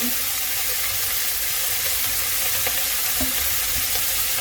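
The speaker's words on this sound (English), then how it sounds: "Do a little bit of a stir." Browned meat frying in a pot for a waterblommetjie bredie, a steady loud sizzle with a few soft scrapes of stirring running throughout, no voices.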